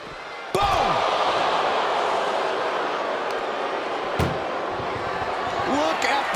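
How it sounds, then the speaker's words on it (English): In the WWE 2K25 wrestling video game, an ambulance door slams with a sharp, loud bang early on, followed by another heavy thud a few seconds later over a busy crowd roar, with a voice talking throughout. "And they can slam this door shut."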